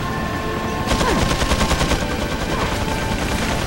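Rapid automatic gunfire in Resident Evil 4 kicks in after a quiet start and keeps going as a loud, steady burst of close shots for most of the clip.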